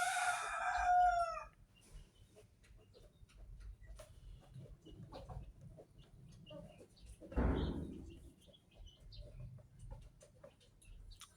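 A rooster among village chickens crows once, loud and near, at the start; afterwards faint clucks and rustling continue at a distance, with one brief louder burst of fowl noise partway through.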